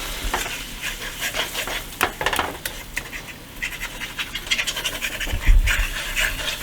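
Food browning and sizzling in a hot pan for a Thanksgiving dinner, steady crackling frying with scraping and stirring clicks, close and fairly loud.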